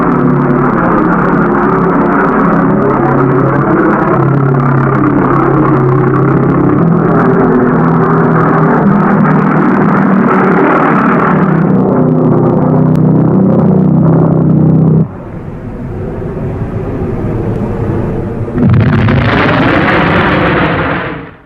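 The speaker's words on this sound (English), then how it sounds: "German V-1 flying bomb." A German V-1 flying bomb from World War II, its pulsejet making a loud, continuous, throbbing drone that holds steady, cuts out abruptly, then returns as a rougher roar before ending.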